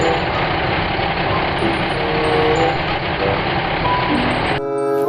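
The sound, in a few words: toy cement mixer truck sounds with reversing beeps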